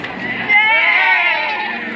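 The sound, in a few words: person imitating a horse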